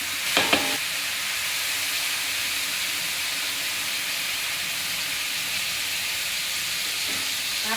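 Pork frying in a pan with vinegar for a low-carb dinuguan, giving a steady, close sizzle that runs the whole time, with a few brief clanks of a utensil near the start.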